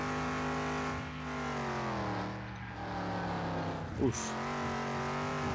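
A Chevrolet El Camino spins out under braking in the Car Mechanic Simulator 2021 video game, its engine droning steadily as a tire squeal briefly rises near the end, with a player's short exclamation over it.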